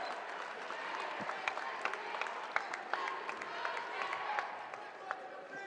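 Crowd at a men's college basketball game applauding a player leaving the court, scattered clapping and crowd noise held at a moderate, distant level with speech over it.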